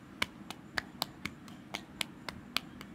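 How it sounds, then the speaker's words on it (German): Quick, sharp hand claps ring out in an irregular series of about a dozen crisp, isolated hits, moderately close and fairly quiet, with brief pauses between them and no talking. "Und so schnell wie es geht klatschen."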